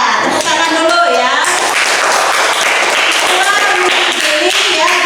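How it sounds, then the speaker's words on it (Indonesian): A school class clapping hands together, a dense burst of applause with a voice speaking over it near the start and again later. "Tepuk tangan dulu ya."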